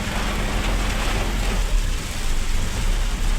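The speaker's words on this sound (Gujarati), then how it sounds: "ધોમ ધોકાર વરસાદ પડે બહુ જ આવે" Heavy rain pours down in a dense, constant roar, loud and unbroken, with a low rumble beneath it.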